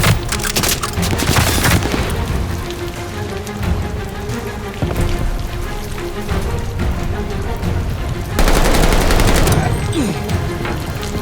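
Machine gun fire from a Call of Duty Vanguard battle, with sustained rapid bursts amid booms and a dense, loud wash of battlefield noise that swells near the end.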